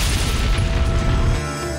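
A film sound effect of a bank vault blown open with explosives: a loud, close boom with a dense rumbling, crackling tail that fades after about a second and a half.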